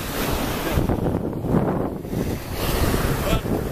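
Wind gusting and surf washing in at a small beach below a coastal walk near Marseille, a steady, fairly loud roar with buffeting wind on the microphone throughout.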